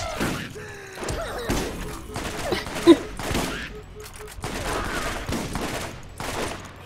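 Gunfire crackles during a Borderlands co-op session as irregular bursts of shots and thumps, with one sharp loud hit near the middle, while players talk over the action.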